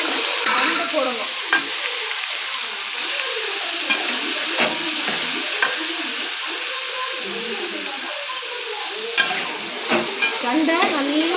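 Vegetable stalks sautéing in a pan, a steady loud sizzle and frying crackle with frequent scraping stir strokes throughout, no voices.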